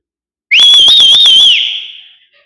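A single loud, shrill whistle rings out in a church, holding a wavering pitch for about a second before trailing off into the room's reverberation.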